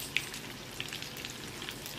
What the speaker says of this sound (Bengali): তো এখন আমি এটা ভেজে নিব, হালকা করে ভাজবো, এরকম কড়া ভাজবো না